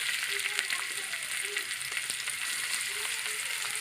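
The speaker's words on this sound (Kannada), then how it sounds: "ಈಗ ನಮ್ಮ ಆಯಿಲು ಒಂಚೂರು ಬಿಸಿ ಆಗಲಿ. ನಮ್ಮದು ಆಯಿಲು ಬಿಸಿ ಆಗಿದೆ. ಈಗ ನಾನು ಇದಕ್ಕೆ ನೋಡಿರಿ, ಇವಾಗ ಈರುಳ್ಳಿಯನ್ನು ಹಾಕೋತಾ ಇದ್ದೇನೆ" Chopped onions fry in hot oil on a flat tawa, giving a constant, bright hiss heard up close with faint crackles and a few soft scrapes, steady from start to finish.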